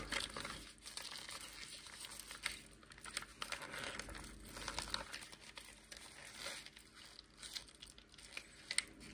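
A plastic sheet is folded and crumpled by hand while fixing a leak in an Italian-style walk-in shower, giving quiet, irregular crinkling and crackling bursts that run continuously and close up, with no talk.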